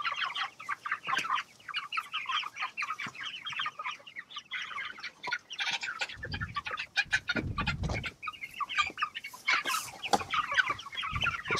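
Farm chickens being weighed cluck and squawk busily at close range, a dense run of sharp calls with a few louder agitated bursts and wing flaps partway through.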